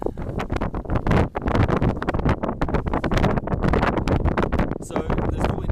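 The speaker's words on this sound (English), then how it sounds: "there's probably no way you can hear me over the wind noise" Strong wind buffets the microphone on the Rangiwahia hut hiking track in New Zealand, a loud, continuous roar of gusts that swell and drop, with someone talking under it.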